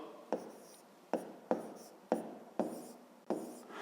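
Chalk or pen strokes writing numbers by hand during a math lesson, six sharp taps each trailing into a short scratch at an irregular, unhurried pace, close and fairly quiet with no talking.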